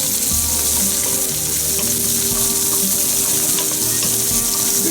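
Chopped onions sizzling loudly in a hot pan for coconut salmon, a dense continuous frying hiss close up with faint stirring and no voices.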